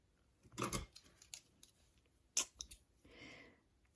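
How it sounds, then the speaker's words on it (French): Scissors snipping small corners off a paper tag: a few close, crisp clicks and snips spread over a few seconds, followed by a soft brushing rustle, quiet and with no talk. "Je vais couper les petits coins."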